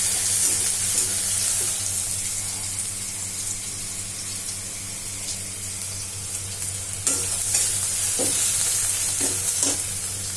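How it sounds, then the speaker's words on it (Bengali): Jackfruit cooking in a pan, a steady close sizzle of frying with scraping stir strokes and a few clinks toward the end, continuous and without speech. "দেখো, এবার কাঁঠাল হচ্ছে রান্না।"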